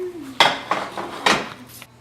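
A metal baking pan of thin mint brownies is pulled from the oven, giving three or four sharp close clanks and rattles of metal on metal within about two seconds, with no voices.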